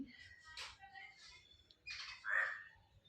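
Small birds squawk and chirp in short, scattered calls, fairly faint and close by, with no talk over them.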